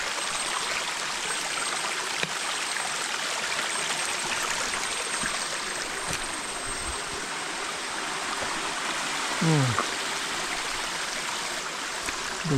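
A mountain stream near a waterfall on Gunung Bujang Melaka rushes steadily with a dense, even wash of flowing water, close and loud throughout.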